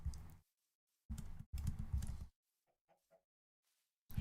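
Chickens in the Minecraft video game clucking in short, loud bursts, followed by a few faint, brief clucks in near quiet.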